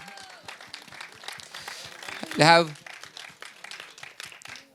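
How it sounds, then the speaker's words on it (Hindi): Audience applause at the Son of Sardaar 2 trailer launch event, a steady crowd patter running beneath an emcee's loud, energetic announcing, with one brief shouted burst in the middle. "बहुत सारी तालियां सर"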